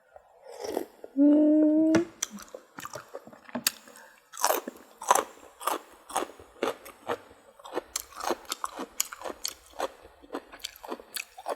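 Crunchy green papaya salad with carrot, fermented fish sauce and fresh water spinach being eaten up close, with steady rapid crisp crunches and wet chewing. A short hum-like voiced sound comes early on.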